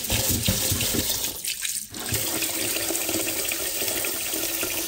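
Tap water runs steadily into a sink while rice is washed and left to soak, a continuous splashing rush with a brief dip in flow partway through.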